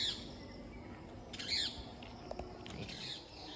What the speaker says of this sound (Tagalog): Pero yung mga ibon, ayan, nag-start na silang.